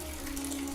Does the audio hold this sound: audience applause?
no